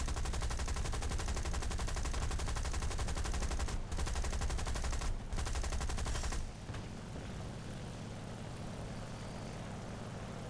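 Dense, rapid gunfire rattles nonstop from a ZIS-43 tank destroyer in the tank game War Thunder, then drops to a quieter, steady rumble for the last few seconds.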